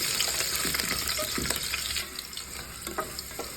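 Chopped green chillies fry in hot oil in a pan for mutton curry, giving a continuous crackling sizzle with occasional stirring scrapes and clinks close by, and no talking.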